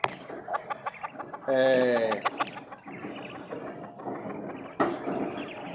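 Quails in a well-lit production coop give a run of clucking and calling, with one drawn-out harmonic call in the middle and scattered sharp chirps, moderately faint against a busy background.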